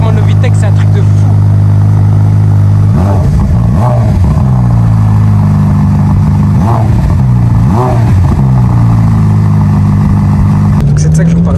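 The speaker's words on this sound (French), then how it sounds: "Il fait un son, les amis, avec l'échappement de Novitec, c'est un truc de fou." A Ferrari F8 Tributo fitted with a Novitec exhaust growls loudly up close, with repeated rising revs and gear changes pulling hard, continuous throughout.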